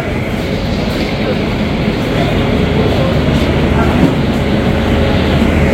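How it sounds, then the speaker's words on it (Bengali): Puri-Sealdah Duronto Express pulling in at a station platform, a steady loud rumble of the train running continuously throughout. "14 নম্বর প্ল্যাটফর্মে ট্রেন দিল।"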